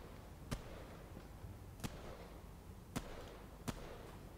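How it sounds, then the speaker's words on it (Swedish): Four sharp, fairly faint cracks spaced about a second apart over a low steady background hum, like distant gunshots, in the video game Fortnite. "Jag hör skott."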